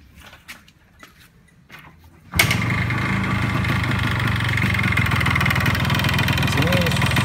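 A Yamaha RX King motorcycle engine starts up during carburetor calibration and settles into a loud, steady two-stroke idle close by, with a few faint clicks and muffled sounds before it fires.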